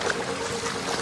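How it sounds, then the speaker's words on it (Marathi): A mountain stream spills down from high above near a temple, giving a brief, even rush of flowing water at moderate closeness, with no voices. "पाठी आपल्या मस्त पाणी वाहते."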